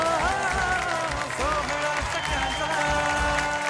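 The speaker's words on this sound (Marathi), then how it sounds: "एकदा जोरदार टाळ्या होऊन जाऊ दे" A studio audience at a Marathi TV show claps steadily for a prize winner, a dense, even burst of applause with faint crowd noise mixed in.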